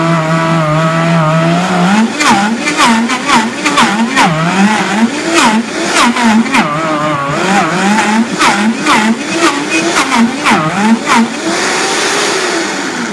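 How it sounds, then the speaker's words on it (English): Vitamix blender grinding a thick hummus paste, its motor straining loudly and close, the pitch wavering up and down over and over as the dense mixture catches and releases. "So I can tell that the Vitamix is working a little too hard"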